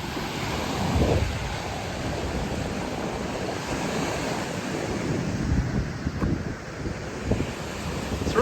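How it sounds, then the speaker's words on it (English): Pacific Ocean surf rolls onto a beach by a seawall south of Narita, Japan, as a steady roar of breaking waves mixed with gusty wind buffeting the microphone, with no talking. "So this is the Pacific Ocean we're looking at."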